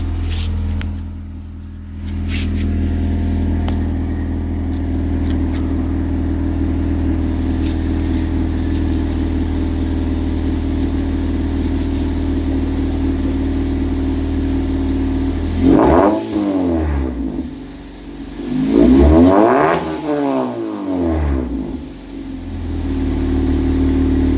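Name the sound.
2015 Honda Civic LX revving, Borla catback and Magnaflow exhaust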